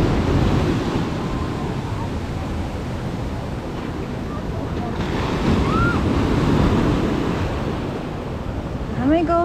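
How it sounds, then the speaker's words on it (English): Ocean surf breaks at Waikiki Beach in Honolulu, Hawaii, a loud, steady wash of waves with gusty wind buffeting the microphone throughout. "able to have really good waves"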